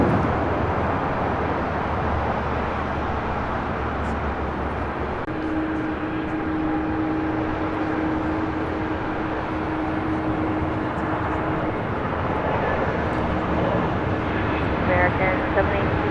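A JetBlue Airways jet airliner takes off at LAX, a broad steady engine roar holding for the whole stretch at a constant level, with a low hum early on and voices talking faintly over it.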